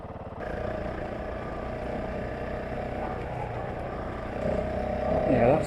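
A Honda CRF450L motorcycle idles and pulls away outdoors on a winter night, its engine a continuous low rumble that rises in pitch and loudness toward the end.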